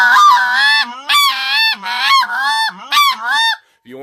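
Triad Killer goose call blown in rapid bursts of honks, high and low notes dragged and broken, mimicking Canada geese up close and loud, with a short gap near the end.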